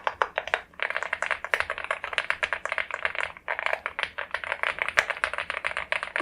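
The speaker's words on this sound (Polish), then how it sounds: "Posłuchajcie sobie dźwięku klawiszy, spacja, Enter, Shift, Backspace." Keys clatter on an Aula Hero84 magnetic keyboard, including the space, Enter, Shift and Backspace keys. The rapid, close keystrokes run almost continuously in a dense, uneven patter.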